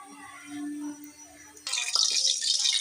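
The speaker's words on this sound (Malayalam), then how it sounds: "ആവശ്യത്തിനുള്ള വെളിച്ചെണ്ണ ഒഴിക്കുക" Coconut oil is poured into a pan for an egg roast, starting with a short stretch of quiet voice and then a sudden bright, hissing splash of liquid that continues close and fairly loud.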